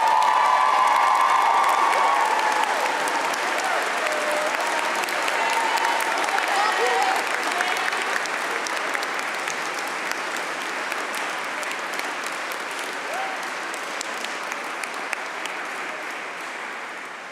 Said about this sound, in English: Now feel free to offer a round of applause.